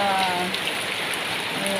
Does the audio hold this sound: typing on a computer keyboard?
no